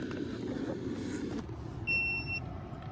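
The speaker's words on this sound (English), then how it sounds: "We just got the little beep letting us know that we're connected." A car diagnostic tool plugged into a hybrid vehicle gives one short, clean high electronic beep, heard alone over a low background hum.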